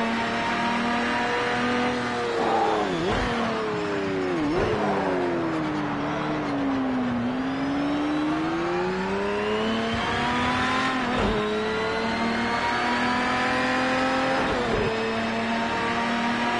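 Cars in Project Cars 2, including a Diablo GTR, whine through the gears at high revs on a straight, the engine pitch climbing then dropping sharply at each shift, steady and close throughout.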